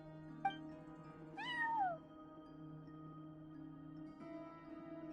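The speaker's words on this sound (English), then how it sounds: "cat watching over the front desk. Excuse... meow?" A cat at a front desk in Genshin Impact gives one clear, rising-then-falling meow over a steady background hum.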